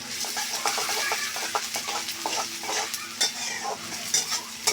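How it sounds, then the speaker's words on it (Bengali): Chopped onion frying in hot oil in a wok for a shrimp and water lily curry, a steady dense sizzle with frequent scraping stirs and clinks, close and alone without talk. "কড়াইতে তেল দিয়ে দিছি তেল গরম হয়ে গেছে এখন আমি পেঁয়াজের কুচি দিয়ে দেবো"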